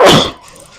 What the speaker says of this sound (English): Feel another sneeze coming.